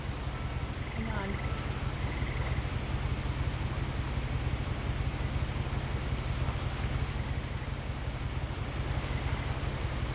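A boat rides ocean waves in the video game What Remains of Edith Finch, with constant loud rushing water and wind. A few chirping game sounds come through near the start.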